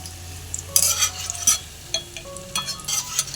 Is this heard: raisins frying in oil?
yes